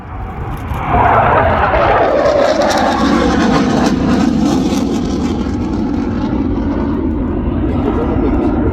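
SAAB J35 Draken jet flying an air display at an air festival, a loud sustained engine roar that swells as it passes, with a commentator talking over it.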